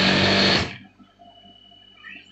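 A sewing machine stitches almamater jacket fabric in a loud, fast whirring burst lasting about half a second, then stops abruptly, leaving faint quiet handling sounds.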